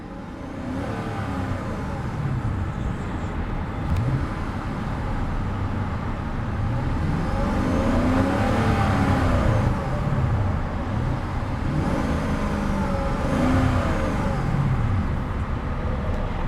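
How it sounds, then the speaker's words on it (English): A 2015 Hyundai Genesis 5.0 with its TAU V8 revs in three rising and falling swells, a deep, steady rumble with a faint hiss. The engine is close and loud, with no talk over it. "an absolutely beautiful V8 rumble"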